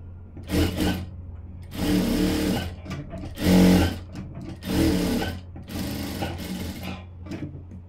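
Domestic sewing machine stitching the lining of a blouse sleeve, running in several loud bursts of rapid mechanical whirring separated by short pauses and small clicks.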